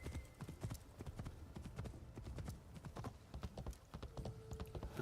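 Rapid, rhythmic hoofbeats of a demon-type horse in Assassin's Creed Shadows gallop steadily throughout, a continuous clip-clop at a quick pace, fairly quiet overall.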